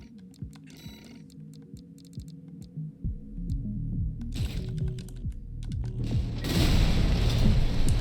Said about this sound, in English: Let's try out the dual missiles.